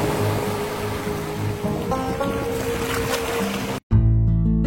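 Sea waves crash and surge against rocks at a natural cleft at Bamanghal on the Ratnagiri coast, a steady loud roaring wash that cuts off abruptly near the end.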